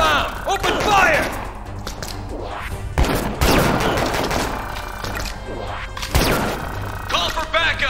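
Gunfire rings out in the Disaster: Day of Crisis video game during a fight on subway city streets, bursts of shots and sharp impacts scattered across the scene amid clatter and crashes, with game voices shouting over them.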